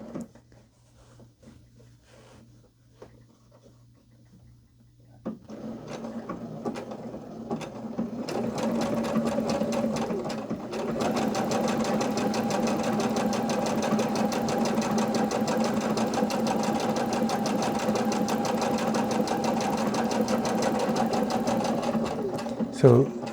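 A Brother CS5055 sewing machine starts up and runs steadily, its rapid mechanical stitching chatter continuing for a long stretch, close and fairly loud.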